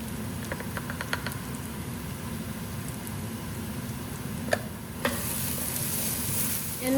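Onions sauté in a pan with a steady, close sizzle and a few light stirring scrapes, and the frying gets a little louder toward the end, with no voices.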